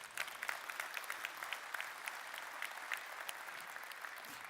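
An audience claps steadily at a business presentation, sustained applause from a crowd heard at a moderate distance, with no voices over it.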